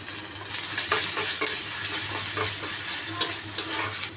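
Onion frying in oil with ginger and garlic paste, a continuous close sizzle under steady stirring and scraping of a spoon against the pan, with no talking.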